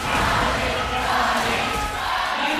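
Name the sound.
esports arena crowd cheering for ONIC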